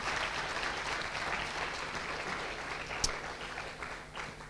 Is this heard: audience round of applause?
yes